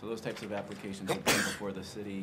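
A sharp sneeze bursts out in the middle of a city planning commission meeting, cutting briefly through a man's steady speech.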